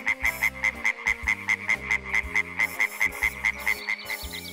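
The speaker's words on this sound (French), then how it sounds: "Tu entends les grenouilles?" Frogs croak in a fast, regular pulsing rhythm, loud and close, with no voices.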